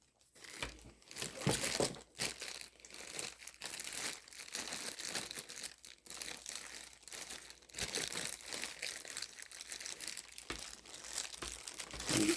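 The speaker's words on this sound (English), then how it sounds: "Pull this plastic off here." Plastic wrapping being pulled off a corded flex-shaft rotary tool, giving continuous close crinkling and rustling with brief tearing bursts, quiet and with no speech.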